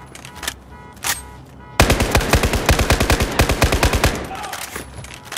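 Rapid automatic gunfire in a fast rhythmic burst, loud and close, preceded by a couple of single shots.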